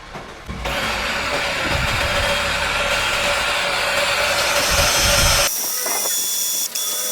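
A DongCheng 12V cordless impact drill, model DCJZ1202i, drilling at speed 1, a loud steady whirring drone held for about five seconds before cutting off, with faint clicks afterward.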